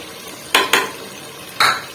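Green chillies are stirred into a tomato masala for a dhaba-style mixed vegetable gravy, giving three short scraping clinks of a spoon against the pan over a faint, steady sizzle.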